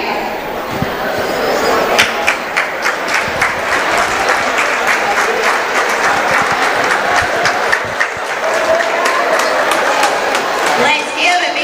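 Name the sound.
applause for basketball referee Donnie McKay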